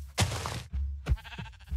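Sheep in a video game let out two short, loud bleats close up, each a brief wavering cry separated by a moment of quiet.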